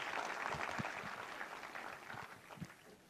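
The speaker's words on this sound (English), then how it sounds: "Big round of applause for our World Cup heroes who are right here with us today" An audience at a Chennai ceremony honouring the Chennai Super Kings and 1983 World Cup cricket heroes claps steadily, the applause fairly faint and fading toward the end.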